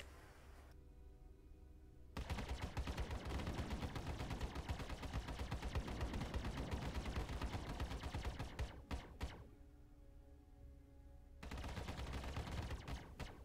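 A Hornet ship in the video game Star Citizen fires its weapons while sitting still: rapid, dense bursts of gunfire crackle continuously in two long volleys separated by a brief pause, over a low steady hum.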